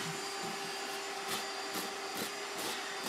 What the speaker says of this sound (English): Now, I do like to use a vacuum every so often real quick.